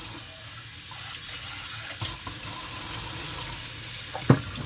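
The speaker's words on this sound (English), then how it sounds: "I always wash my rice first" Jasmine rice being washed under a running kitchen tap, a steady close rush of water with a couple of brief splashes and knocks, no talking.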